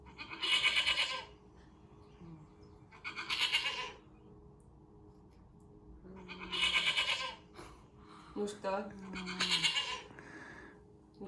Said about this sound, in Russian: Ну, это коза.